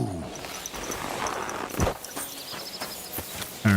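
A horse in Kingdom Come: Deliverance 2 moves with soft clip-clop hoof steps and a brief snort, mid-distance, alongside scattered thumps and ambient game sounds, with no talking.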